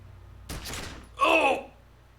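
A gun fired in Disco Elysium: a short burst of noise followed by a sharp, bright blast with a ringing tail that fades within a second, close and loud, with no talking.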